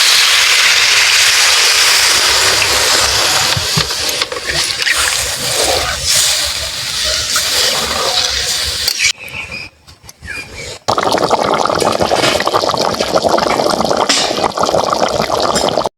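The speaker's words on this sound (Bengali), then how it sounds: "আমি এবারে জল দিয়ে দিচ্ছি।" Water poured into a pan of jackfruit and potato curry with cooked-down spices, a loud close gush and splash, then a short pause and more sloshing and bubbling, no talk.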